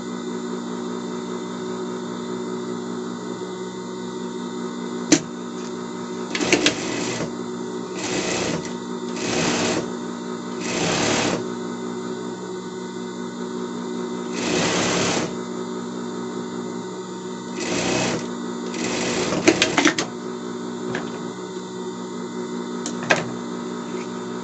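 A sewing machine stitches a seam on a pet dress in short repeated bursts of fast mechanical whirring, separated by pauses with a low steady hum and occasional clicks.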